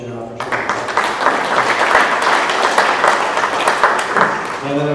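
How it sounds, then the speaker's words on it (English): Audience at an open meeting law training session applauds, a dense burst of clapping from a modest crowd lasting several seconds, with a voice briefly before and after. "another round of applause for Janelle for joining us"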